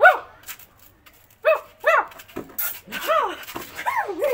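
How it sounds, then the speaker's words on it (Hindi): A Russell Terrier barks in a series of sharp, close yaps, several quick barks spaced across a few seconds with short pauses between them. "एक रसल टेरियर नस्ल के कुत्ते की आवाज।"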